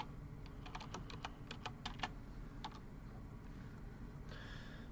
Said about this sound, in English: So I'm going to type in soul.